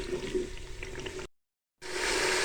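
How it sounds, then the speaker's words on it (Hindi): Water poured into masala frying in a pan for a mixed vegetable dish: a loud rushing, splashing pour, a brief break in the sound, then sizzling and bubbling noise, close, with no talking. "हम इसमें थोड़ा सा पानी शामिल करके तो मज़ीद भूनेंगे।"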